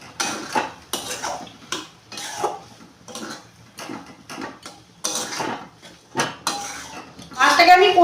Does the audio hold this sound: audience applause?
no